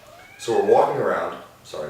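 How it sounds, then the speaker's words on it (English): A house cat meows a few times, close by and fairly loud, while a person talks over and between the calls. "that was my cat."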